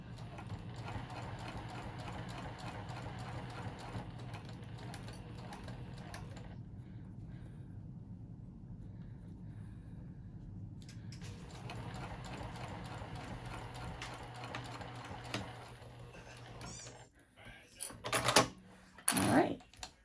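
A sewing machine stitching a zipper pouch runs in a steady mechanical whir, pauses to near silence for a few seconds, starts again, then ends with louder handling clatter and knocks.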